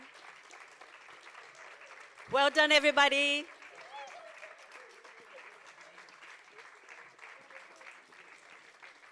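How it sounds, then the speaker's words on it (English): A burst of applause from an audience for twelve students at a live youth performance event rises for about a second, loud and dense, then gives way to a host speaking over a low murmuring room. "Keep clapping, keep clapping"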